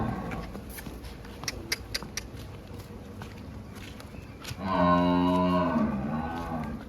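Dairy cattle at a livestock sale: a loud, close, sustained moo rises near the end after scattered hoof steps and shuffling, with faint background voices.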